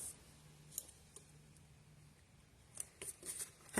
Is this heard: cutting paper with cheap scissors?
yes